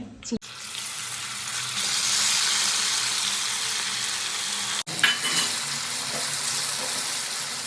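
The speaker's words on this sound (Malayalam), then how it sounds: "അപ്പോൾ ഇത് നമുക്ക് ഫ്രൈ ചെയ്തെടുക്കാൻ പോകുന്നു" Marinated chicken for chilli chicken deep-fries in hot oil with a dense, unbroken hiss and crackle, loud and close throughout, with a brief clunk midway.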